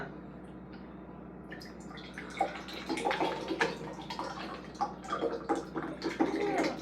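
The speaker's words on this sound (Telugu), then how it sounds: "స్టైల్ గా పోస్తాడు మా తమ్ముడు" A fruit juice drink with nata de coco jelly pieces is poured in a gurgling, splashing stream that grows fuller after a quiet start, with no talking.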